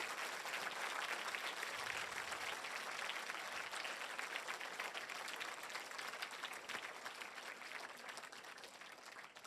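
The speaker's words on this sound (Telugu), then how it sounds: "ఒకసారి గట్టిగా చప్పట్లు కొట్టాల్సిందిగా తెలియజేస్తున్నాను" An audience at a commemoration gathering at the Maheswara Maha Pyramid claps for almost ten seconds, a steady, fairly faint and distant roll of many hands with no speech on top.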